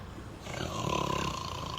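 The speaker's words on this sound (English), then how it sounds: "that is a snore. Definitely an echoey snore." A single snore echoes through a bus depot, a deep, rough, rumbling breath that swells and fades over about a second, heard close and alone under a reverberant hum.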